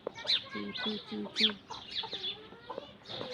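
Many sparrows chirp from trees in a village at morning, a busy chorus of short bright calls close by, with low voices and other farmyard bird sounds mixed in.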